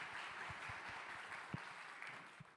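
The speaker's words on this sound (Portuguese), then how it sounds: "Vamos aplaudir?" Audience applause at a business AI summit greets the next presenter taking the stage, a quiet, steady patter of clapping with a few sharper individual claps standing out.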